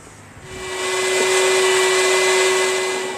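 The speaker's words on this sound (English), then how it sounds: "Now I'm going to take a few minutes and vacuum this out" A vacuum cleaner spins up and runs steadily with a loud whine and rushing air while cleaning out the cabin filter area of a Saab 9-3, heard close and alone.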